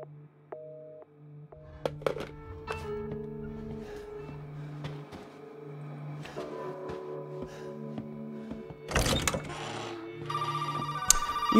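A telephone rings in Resident Evil 7, with repeated electronic tones over a low hum and clattering knocks, growing louder and busier toward the end.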